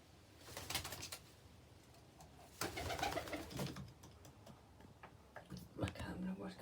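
White pigeons coo softly in an open loft while someone talks over them, with low cooing and scattered rustles and clicks in the background.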